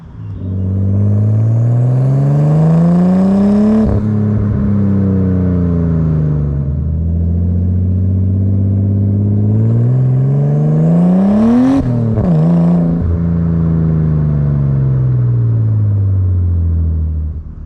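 Nissan R33 Skyline with a fresh ignition system and a boost setup, on a test run. The engine revs loudly and close up through several rising gear pulls, each climb ending in a sharp shift before it pulls again, with no talk.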